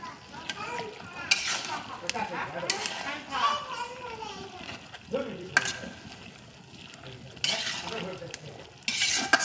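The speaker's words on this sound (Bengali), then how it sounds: "তো শাকটা দিয়ে ভালোভাবে নাড়াচাড়া করব।" Greens are stirred in a cooking pan with scraping and clattering utensil strokes in uneven bursts, under a soft sizzle, while voices, including a child's, talk intermittently in the background.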